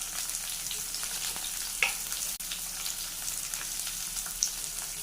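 Dried red chillies added to a frying tempering of mustard seeds and curry leaves for a brinjal curry, a constant close sizzle with brief pops and one sharp click.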